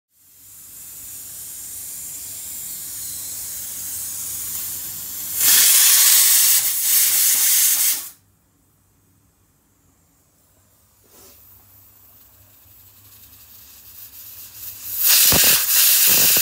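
A pressure cooker cooking mutton on a home stove lets off loud blasts of hissing steam whistle, one lasting a few seconds and another starting near the end, over a softer continuous hiss.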